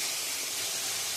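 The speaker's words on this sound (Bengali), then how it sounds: "এবার আমি জলটা দিয়ে দিচ্ছি, পোস্তর জলটা।" Poppy-seed water poured into a hot pan with cooked pointed gourd, a loud steady hissing sizzle, close and continuous throughout, with no voices.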